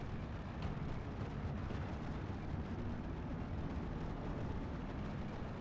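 Steel Division 2 battle with Soviet Strelky DP squads firing anti-tank rifles at a ZSU, a dense continuous roar of gunfire and explosions at steady loudness throughout, with no clear separate shots.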